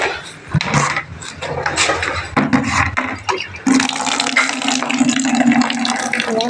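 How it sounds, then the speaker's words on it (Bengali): Water pours loudly into a bucket for soaking clothes, a steady rushing splash that grows fuller and brighter partway through. It sounds close and continuous, with some faint background noise. "বালতিটা কোথায়, জামা কাপড় ভেজাবো এখন।"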